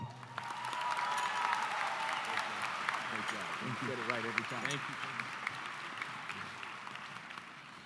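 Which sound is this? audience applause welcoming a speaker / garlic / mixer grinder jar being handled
audience applause welcoming a speaker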